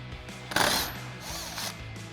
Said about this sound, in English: use an 8mm swivel socket and extension on our impact to go ahead and run this off